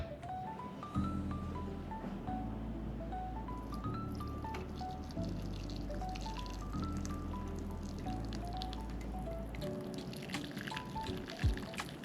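Cooking liquid from a beef Wellington poured through a metal strainer with no muslin cloth, a steady close pour and trickle running about ten seconds under a faint musical backing before it tapers off.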